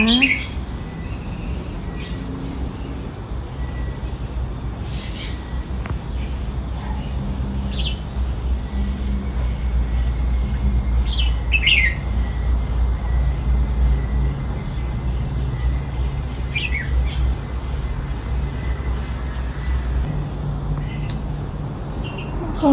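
A red-whiskered bulbul gives short, bright chirping phrases at intervals over a steady low background hum, moderately near and outdoors.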